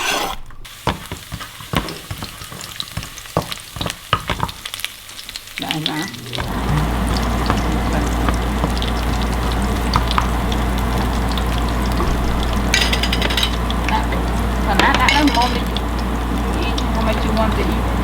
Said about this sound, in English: We're gonna start the sauce by sauteing the garlic in the oil that's packed